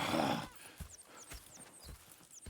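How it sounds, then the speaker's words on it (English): Horses in the video game Red Dead Redemption II: a short whinny, then soft, evenly spaced hoof clip-clops at close range. "Go check the horses are ready."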